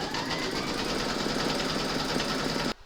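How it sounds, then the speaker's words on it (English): An embroidery machine stitches batting onto fabric held in a hoop for a piano-shaped coaster, a steady close mechanical whirr and rapid needle chatter that runs evenly for over two seconds and then cuts off abruptly. "Pop your hoop into your machine and stitch round number 2 to secure it."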